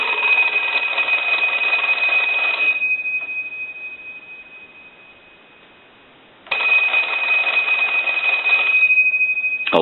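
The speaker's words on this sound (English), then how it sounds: "I'll go ahead and ring the telephone." An AE Monophone rotary desk telephone bell rings loudly in two long bursts with a quiet gap between them, a bright continuous metallic trill close by.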